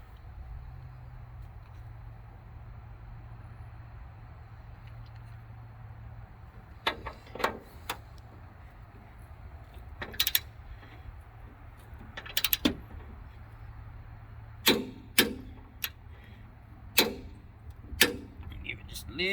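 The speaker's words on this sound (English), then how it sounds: "right now I'm torquing this thing down tight because I do not want it to come off" A wrench torques down the bolts of a Demco Recon fifth wheel hitch with a recessed ball in a truck bed, giving sharp, irregular metallic clicks and clanks over a low background hum, with faint speech.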